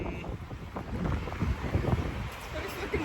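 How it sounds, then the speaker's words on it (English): Strong gusty wind buffets an outdoor microphone in Amsterdam, a continuous low rumble and rushing noise throughout, with faint voices underneath. "It's pretty fucking windy, eh?"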